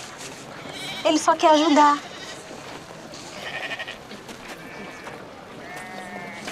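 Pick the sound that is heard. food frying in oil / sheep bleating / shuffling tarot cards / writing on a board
sheep bleating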